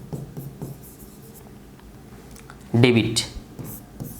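A pen scratches across paper while working through an accounting exercise, giving a light, close, brisk scribbling sound that rises into a short louder burst, with a voice speaking briefly alongside.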